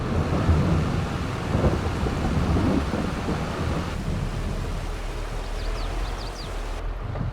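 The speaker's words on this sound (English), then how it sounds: "it has started raining, which is a bit of a nuisance" Rain and rolling thunder in the Farming Simulator 22 game: a steady wash of rainfall over a low, rumbling thunder that swells early and then eases, with no talk.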